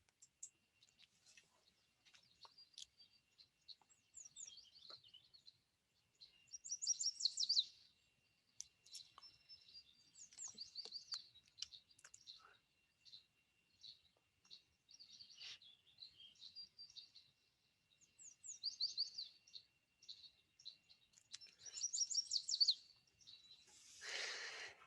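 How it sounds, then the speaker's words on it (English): A yellow warbler sings in spring at Beaver Creek, repeating quick bright chirping phrases in short bursts at a moderate, fairly close level, with soft clicks between songs and no voices. "So this is a yellow warbler."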